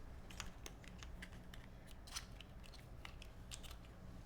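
Keys on a Spyder TKL mechanical keyboard prototype are typed in a quick, irregular run of crisp clicks, close and quiet over a low steady hum, with no talking.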